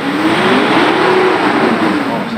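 A Mitsubishi engine revs up to around 4000 RPM, a loud, steady close-up engine roar with a rising harmonic whine throughout.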